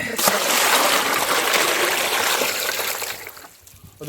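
Tap water from a line pipe poured over a dog being bathed: a continuous splashing, trickling wash close by that tapers off toward the end, with a faint voice in the background.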